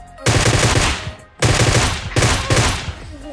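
Rapid automatic gunfire in PUBG, loud and close, coming in three long bursts of fast rattling shots separated by brief pauses.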